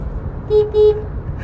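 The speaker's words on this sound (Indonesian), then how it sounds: "Kalau kita mendengar klakson seperti ini" Two short car horn toots from a 2021 Toyota Raize, one after another, fairly loud over a low rumbling background.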